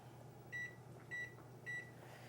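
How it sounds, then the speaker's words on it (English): A kitchen timer beeps three times at an even pace, with clear, fairly close electronic tones separated by short gaps over a quiet room hum while noodles boil on a stove. "Put your timer on, which I'm going to turn around and do right here."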